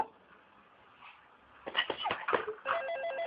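A telephone rings over a radio broadcast, a short run of electronic ringing tones that starts after a quiet stretch and repeats in quick pulses, fairly close.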